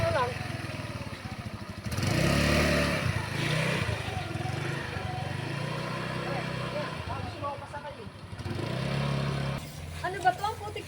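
A motorcycle engine idles and revs nearby in a continuous rumble, rising in bursts, while several people talk over it.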